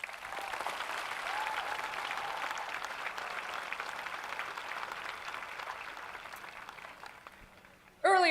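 Sustained applause from a crowd at a high school graduation ceremony, steady clapping that fades slightly toward the end before a brief louder sound cuts in.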